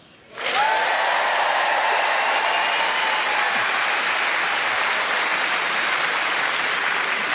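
Stand-up comedy crowd bursting into loud applause after a quiet moment, the clapping rising sharply and then sustaining as a dense, even roar for several seconds.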